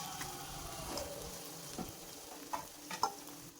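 Onions sautéing with salt in a pan for a fish curry, a soft continuous sizzle with occasional stirring scrapes and light clinks, quiet and close with no talk.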